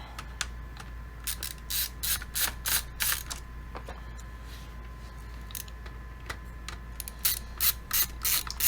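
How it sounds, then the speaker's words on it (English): Screws being backed out of a Toshiba Satellite C55T-B5230 laptop during a teardown, bursts of rapid ratcheting clicks from a screwdriver repeating in short runs with pauses, close and crisp. "screws that didn't want to come out before now are coming out"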